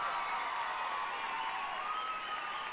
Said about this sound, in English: give them a strong round of applause to express our appreciation